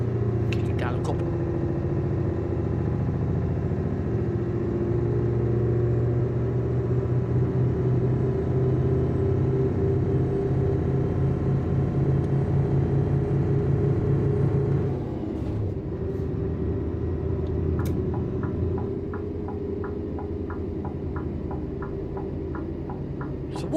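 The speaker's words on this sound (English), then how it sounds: "She's struggling up this hill. Let's override the gearbox. Kick it down a couple." A truck engine labours up a hill in Norway after a gearbox kickdown, a deep, steady, loud drone heard from inside the cab, dropping in tone partway through, with light clicks near the end.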